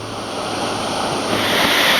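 Heavy water from a waterfall in Kanchanaburi, Thailand, crashing down in a loud, steady broadband roar heard from close underneath the falling water, with wind buffeting the microphone and no voices.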